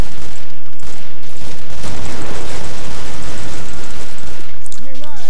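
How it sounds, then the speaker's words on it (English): Gunfire in the video game Killing Floor, with a shotgun among the dense, loud, overlapping bursts of shots and blasts that fill the whole stretch, with a voice speaking near the end. "I tried to shoot with my shotgun"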